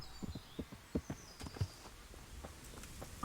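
Horse hooves in the medieval video game Kingdom Come Deliverance clop in an irregular series of soft thuds on the ground, a dozen or so steps at moderate distance, with no talk over them.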